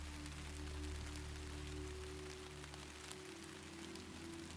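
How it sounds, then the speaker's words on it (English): Steady rain falling on a city street at night, a soft continuous hiss over a low hum, even and unbroken throughout. "The rain is keeping its steady pace."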